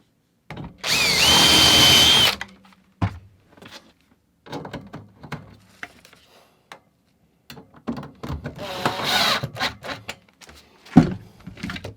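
A power drill drives screws into a part on an RV being readied for winter camping, one loud sustained whir followed by a second shorter burst, with scattered handling knocks and clicks between them.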